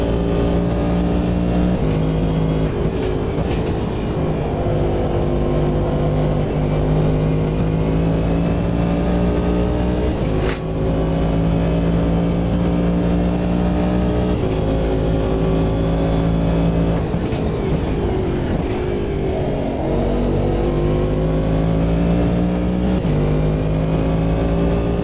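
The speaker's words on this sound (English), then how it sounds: "enjoy the sound of the DPi" A DPi prototype race car in Automobilista 2 roars steadily at close range, its engine climbing through gears with brief lifts and shifts for about twenty-five seconds, loud and continuous with no talk over it.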